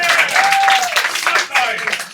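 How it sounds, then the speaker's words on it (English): Audience applause at a live Christmas comedy show, a dense wash of clapping mixed with cheering and a raised voice, loud and continuous. "Round of applause for these guys."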